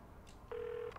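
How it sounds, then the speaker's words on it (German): A single steady electronic dial tone from a mobile phone in the video game Saints Row: The Third, lasting under half a second over a low game-ambience background. "Telefon."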